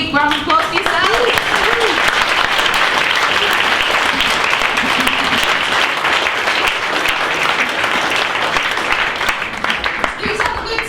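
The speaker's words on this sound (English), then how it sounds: "So a big round of applause for yourselves." Hackathon participants applauding themselves at the Hack Manchester 2017 wrap-up, a loud, sustained crowd clapping with cheers and voices woven through it.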